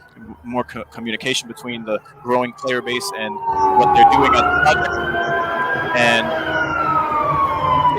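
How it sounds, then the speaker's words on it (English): Emergency vehicle sirens pass outside during an online gaming podcast, a rising and falling wail that swells from the midpoint and stays loud to the end, heard first under a person talking and then largely alone. "excuse the sirens."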